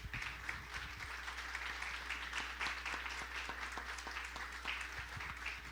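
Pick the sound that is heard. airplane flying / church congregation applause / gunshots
church congregation applause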